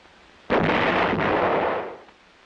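A single loud US heavy howitzer shot from the Vietnam War era: an abrupt, powerful boom that rolls on as a broad rumble for about a second and a half before dying away.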